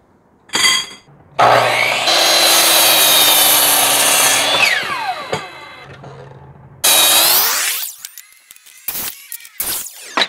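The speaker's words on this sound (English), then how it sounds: "we are going to cut ourselves legs out of 2x4s" Chop saw cutting 2x4 lumber into legs outdoors: motor spins up loudly, the blade bites through wood for a few seconds, winds down, then a second cut follows with a whine and clunks as it stops.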